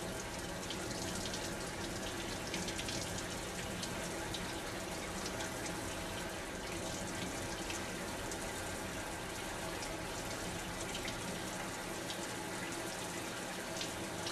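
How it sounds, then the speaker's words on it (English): Tap water running steadily into a sink while fingernails are cleaned with a nail cleaner during surgical hand washing, a continuous even gush with no talk. "Clean the nails under running water and remove all dirt and debris."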